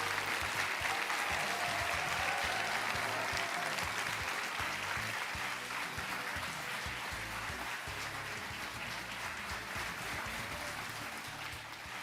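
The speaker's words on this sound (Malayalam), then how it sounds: "ഈ കൈയടികൾ തുടർന്നുകൊണ്ടേയിരിക്കട്ടു" A studio audience applauds as India's foreign minister S Jaishankar is welcomed onto a television courtroom-style talk show, a loud, sustained wash of clapping that barely eases across the stretch.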